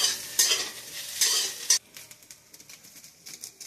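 Soya chunks fry in hot oil for a snack, with loud sizzling bursts and scraping stirs in a pan for the first half, then a quieter, low sizzle.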